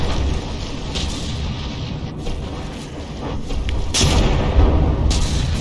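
Naval battle in From the Depths with an APS gun firing: a steady low roar of booms and thuds, with sharper shot bursts that get heavier toward the end and no voices.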